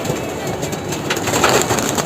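A molting pigeon coos in a loft, soft repeated low calls that come up close and fairly loud over a faint background rustle.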